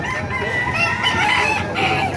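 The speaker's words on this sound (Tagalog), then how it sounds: "Ganda, oh, mga manok dito" Close rooster crowing, a drawn-out call over a busy background of other chickens clucking.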